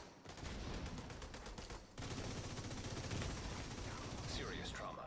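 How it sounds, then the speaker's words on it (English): A FAMAS rifle fires in The Division 2 as rapid, continuous automatic bursts with a brief pause near the middle, fairly quiet overall under game effects. "That FAMAS puts out some serious DPS though."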